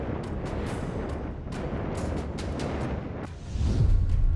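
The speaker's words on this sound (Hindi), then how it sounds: "तोपें बरस रही।" Army artillery guns firing during a border exercise in Ladakh, a rapid run of sharp booming reports echoing over a rumbling background, ending in a deeper heavier roar.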